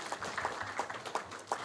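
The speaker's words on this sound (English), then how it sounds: "We could give her a clap." Applause at a public symposium on investment migration, scattered hand claps in a brief, fairly faint burst.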